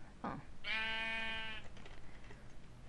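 A Minecraft sheep gives one clear, drawn-out bleat near the start, preceded by a short rough grunt and followed by quieter low rustling.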